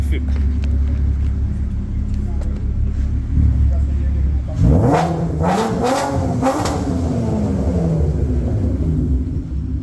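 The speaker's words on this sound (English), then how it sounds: "laat ek hom rev soos 'n regte ou." An Audi TT engine idles with a low rumble, then revs hard in a couple of sharp rising bursts, loud and nearby.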